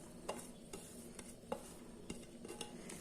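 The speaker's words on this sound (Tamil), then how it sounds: "இப்போ இதை நல்லா கலந்து விட்டுடலாம்" Masala vada batter mixed with chopped onion, green chilli, coriander and curry leaves, heard as soft, faint, repeated scraping and squelching strokes against a bowl at a steady rhythm.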